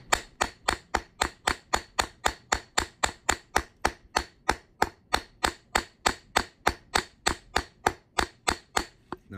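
A plastic hammer taps a metal coin ring off a steel spike in a steady run of about thirty sharp, evenly spaced knocks, close and alone with no talk.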